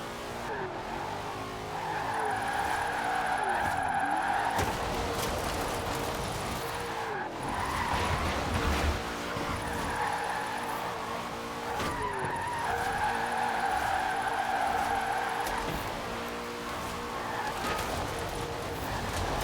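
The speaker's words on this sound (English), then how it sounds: "Now let's really shred those tires." Tires screech continuously as a car drifts in Forza Horizon 4. A high, wavering squeal rises and falls in repeated swells over a loud, steady engine roar.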